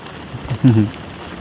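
Rain falls steadily in a village near Botad, a soft, even hiss running through the whole stretch, with a short voiced sound rising briefly over it midway.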